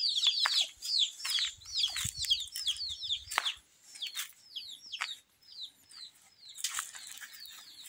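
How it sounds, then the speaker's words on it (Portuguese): A naked neck hen clucks low among her chicks, whose rapid, high peeping chirps fill the air nearby with constant overlapping calls and a few brief fluttering bursts. "Pescocinho pelado tá aqui com os pintinhos dela."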